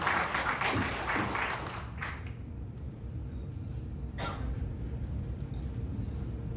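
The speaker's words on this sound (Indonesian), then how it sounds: "Beri tepuk tangan yang meriah." Church congregation applauding during a sermon, a broad burst of clapping in the first two seconds that thins into scattered claps and a low crowd murmur.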